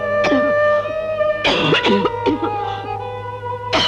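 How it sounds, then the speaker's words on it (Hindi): A woman coughs hard in a Hindi film scene, a harsh fit of several hacking coughs and strained throat sounds, close and loud over a sustained musical drone. "इतनी बुरी तरह क्यों खांस रही हो?"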